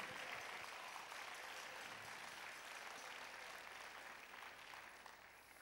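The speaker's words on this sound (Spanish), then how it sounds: "Dale un aplauso a Jesús." Congregation applause at a church service, a steady wash of many hands clapping that holds level throughout and eases off slightly near the end, heard from within the crowd.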